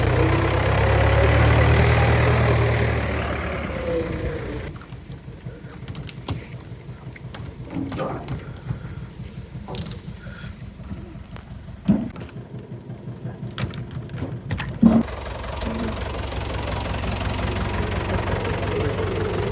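A tractor engine runs at idle with a steady low, knocking rumble, broken by a few sharp clanks, with no talking.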